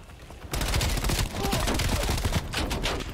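Dense automatic gunfire from the Black Ops Cold War campaign bursts in suddenly and keeps up as a loud, continuous rattle of rapid shots with no pauses.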